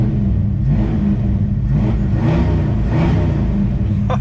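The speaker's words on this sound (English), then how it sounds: "Let's give her a few baby revs for you." A 289 V8 in a 57-year-old 1965 Ford Fairlane 500 with a Holley Street Warrior carburetor, revved gently several times in a row, loud and close, the deep rumble swelling and settling between each blip.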